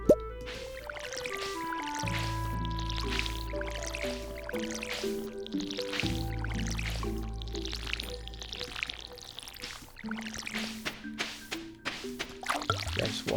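A watering can soaks the ground in the Stardew Valley farming video game, a run of soft dripping, splashing game effects over steady background music with a low bass line.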